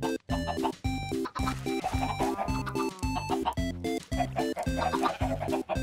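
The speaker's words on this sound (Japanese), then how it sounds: "鶏はあそこでも泣いてるから" Minecraft chickens cluck in sharp, tightly repeated bursts at a quick, very regular pace, loud and close, with no talking over them.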